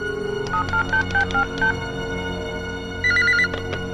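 A telephone put on speakerphone gives a run of short electronic dialing and ringing tones, a rhythmic series of beeps, then a faster cluster of higher tones, loud and close with no talking.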